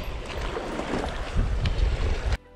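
Strong wind sweeps across Ruedi Reservoir during fly fishing for rainbow trout, buffeting the microphone in a loud, continuous roar with gusty surges before cutting off abruptly.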